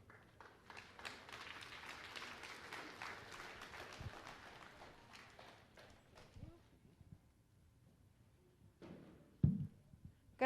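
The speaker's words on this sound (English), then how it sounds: "Clap as loud as you can." Steady applause from parents and families at a school promotion ceremony, moderately loud for about six seconds before thinning out, followed by a few scattered claps and a brief louder thump near the end.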